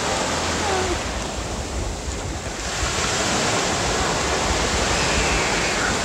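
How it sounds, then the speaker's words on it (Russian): Large ocean waves breaking on a beach, a continuous loud roar of surf with rushing, hissing water and some wind buffeting the microphone, no voices. "пришли к пляжу, тут большая волна"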